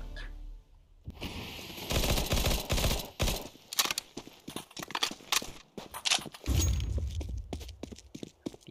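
AK rifle gunfire in the video game Counter-Strike 2 rips through the mix as loud, dense automatic bursts broken by short gaps, with scattered footsteps and other game effects around them and no talking.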